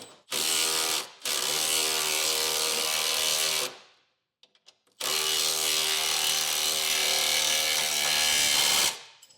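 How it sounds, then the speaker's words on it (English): A ratchet wrench tightens the large hitch side plate bolts into the frame of a 2018 GMC truck during a B&W Turnoverball underbed gooseneck hitch install, giving two long, loud, steady runs of rapid clicking split by a brief pause. "First, I'm going to tighten the big bolts that go into our frame."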